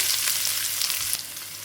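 Chopped onions dropped into hot oil with crackled mustard seeds for fish podimas, giving a loud, close, continuous sizzle and crackle with no talk.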